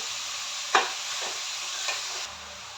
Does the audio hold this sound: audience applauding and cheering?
no